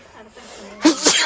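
A single sharp sneeze bursts out close by, a quick two-part explosive breath after a moment of quiet rustling.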